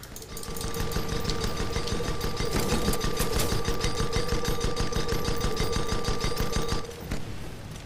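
Rapid, sustained automatic gunfire from airship weapons in the Guns of Icarus Online video game, a dense rattling stream that runs loud for about seven seconds before cutting off.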